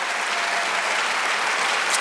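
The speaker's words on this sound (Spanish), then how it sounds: "Dale un aplauso al Señor." A church congregation applauds during a Spanish-language sermon, dense continuous clapping that fills the room evenly, steady and loud with no pauses, no voices over it.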